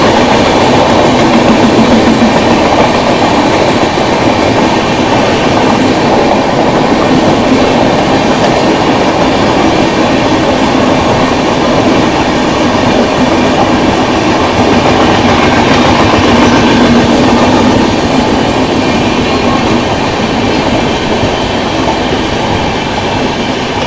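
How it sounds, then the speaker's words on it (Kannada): A long-distance train rolls steadily along the rails near the Narmada bridge, a loud continuous rumble with faint rhythmic clatter of wheels throughout. "ನಾವು ರನ್ನಿಂಗ್ ಇದೇವೆ, ಅದು ಟ್ರೈನ್ ರನ್ನಿಂಗ್ ಐತಿ"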